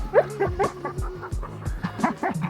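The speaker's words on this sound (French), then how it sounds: "Les chiens sont prêts." Sled dogs in snowy Tromsø bark and yip repeatedly before a sled ride, several close, excited barks in quick irregular bursts with some whimpering, and no clear speech.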